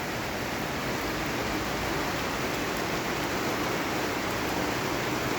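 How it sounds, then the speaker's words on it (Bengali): Monsoon rain falls with gusting wind, producing a steady, roaring broadband wash that stays uniform and fairly loud throughout, with no voices. "বাতাস হচ্ছে, বৃষ্টি চলছে।"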